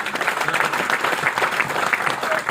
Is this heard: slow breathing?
no